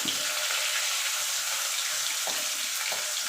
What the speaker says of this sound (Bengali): এবার মাছ দুটো দিয়ে দেবো মাছ দুটো দিয়ে ভেজে নেবো